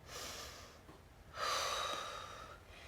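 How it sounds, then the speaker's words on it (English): Deep breaths during a yoga-style up-dog stretch in a fat-burn strength and core workout, heard as a soft long exhale followed by a louder, rushing breath, close and quiet with no talking. "Nice deep breath."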